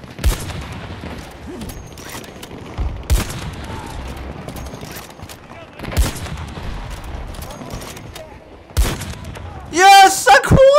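Gunfire from a weapon in Battlefield 2042 rings out in loud bursts and separate sharp shots spread over several seconds, with a player talking in between.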